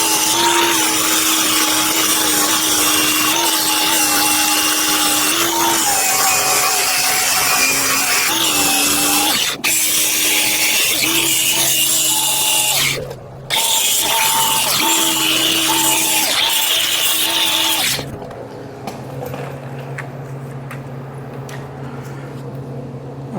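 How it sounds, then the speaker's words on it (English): An angle grinder grinds down a weld bead on a broken Exmark mower part, a loud, steady high-pitched whine that shifts pitch with pressure, cuts out briefly, then winds down to a lower hum near the end. "All right, well, I grinded it off."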